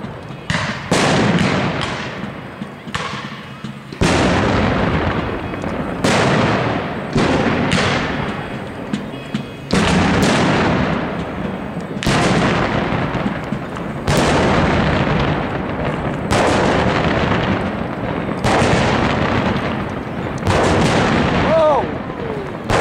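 Artillery fire at a battle reenactment at Pleasant Hill: a long series of loud booming cannon blasts, about a dozen heavy reports spaced a second or two apart, each rolling away, with voices faintly underneath.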